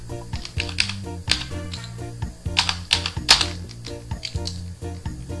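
Keys clatter on a computer keyboard while a formula is entered in an Excel spreadsheet, producing steady close-up typing bursts over a faint musical background hum.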